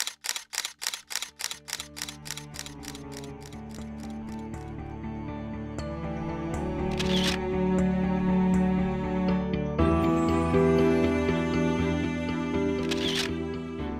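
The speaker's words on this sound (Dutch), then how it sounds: "En camera's kunnen al gauw 10 tot 25 beelden per seconde schieten." Camera shutter firing in a rapid burst of about a dozen sharp clicks, then a different sound with higher sustained tones takes over as the shutter stops.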